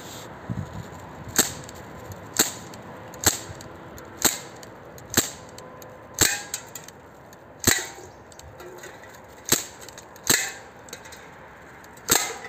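Small-caliber shots at an informal target-shooting session, about a dozen sharp reports fired one at a time at an irregular pace of roughly one per second, each ringing briefly against quiet outdoor background.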